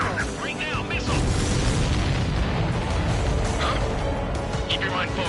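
A missile explodes in a PS4 game with a heavy, continuous booming roar that swells after the first second and stays loud, while game voices and radio chatter sit under it.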